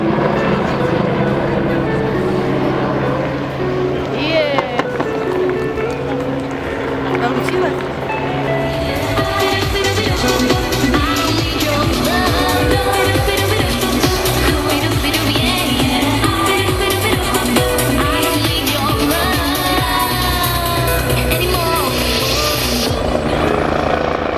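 A Belgian Agusta helicopter flies a display at the Slovakia air show, its rotor and turbine a steady droning roar throughout, with a commentator talking over it.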